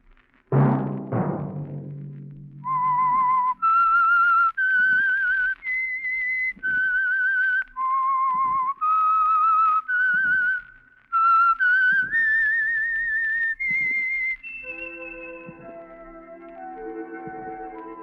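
A clear whistled signal tune of rising and falling notes, the opening of the 1949 radio drama The Whistler, loud and close, following a brief low thud at the start, ending in a sustained orchestral chord.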